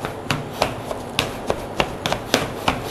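Boiled potatoes being mashed by hand for a cottage pie, a series of about ten soft, regular thuds and squelchy rubs, close and moderately loud, with no talking.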